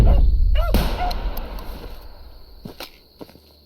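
Hunting dog in the video game Hunting Simulator 2 gives a loud close bark followed by a few yips and whimpers, fading to quieter scattered sounds, with no talking.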